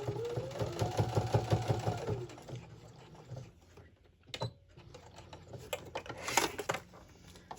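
A sewing machine stitches binding onto a Christmas mug rug. The whirring run starts near the beginning, then a few faint stops and short spurts follow.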